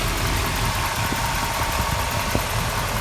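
A 1987 Chevrolet Camaro IROC-Z with tuned port injection idles steadily and smoothly nearby. The engine gives a continuous low, even rumble with no other sounds.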